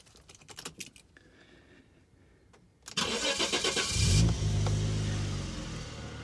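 A 1995 Jaguar Sovereign LWB with a 3.2 straight-six engine cranks and starts on petrol after a few clicks, then settles into a loud, smooth idle close by.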